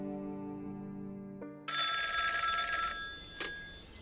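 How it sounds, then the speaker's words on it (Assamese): A phone call goes out: a tonal ringback tone plays, then a bright telephone ring chimes loudly for over a second, with a short sharp accent just after. "বহুত চিন্তা কৰি প্ৰণয়ে সিহঁতৰ ড্ৰাইভাৰজনলৈ ফোন কৰিলে।"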